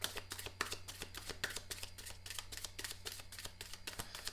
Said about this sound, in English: So, let's go ahead and do the shuffle.